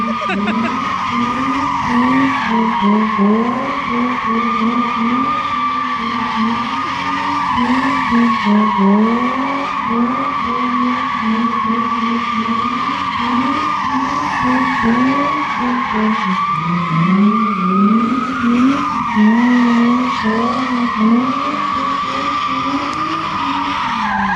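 A Nissan 350Z with newly installed coilovers skids and revs continuously in a yard, its engine droning loudly with a steady, wavering pitch and tire noise throughout, close and dominant.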